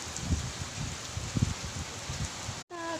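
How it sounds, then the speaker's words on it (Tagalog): A steady wash of rain in Jeddah with soft gusty rumbles from strong wind, continuous and moderately loud, without any talking, cutting off abruptly near the end. "Na naman ang ulan sa Jeddah."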